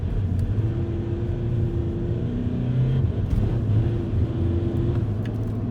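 A Volkswagen TDI diesel with a DSG gearbox pulls hard on a wet road, its engine droning in a steady, close rumble with slowly rising tones.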